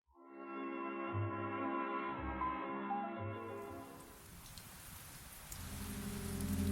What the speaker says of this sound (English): The rain didn't just fall in San Francisco. It conspired.